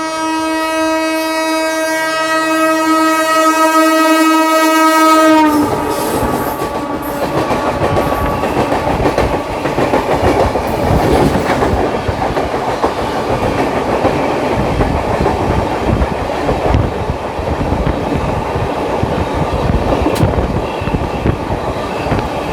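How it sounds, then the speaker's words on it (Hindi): A long, loud horn blast from a train hauled by a WAP7 electric locomotive near Nagpur, then a heavy, continuous rumble and wheel clatter as it passes close by. "तो यहाँ कोई तो ट्रेन क्रॉस कर रही है हमें WAP7 के साथ।"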